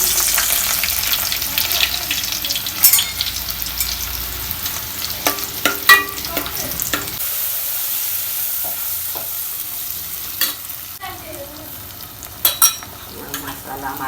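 Star anise and garlic sizzle in hot oil in a pan for a Malvani-style fish curry, a steady loud frying hiss with occasional stirring clinks and pops.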